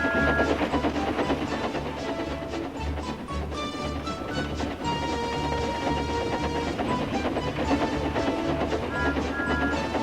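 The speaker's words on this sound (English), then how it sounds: "he puffed happily along his branch line with Annie and Clarabel" A steam train rolls along the rails with a steady rhythmic clatter and low rumble, continuous and fairly loud throughout.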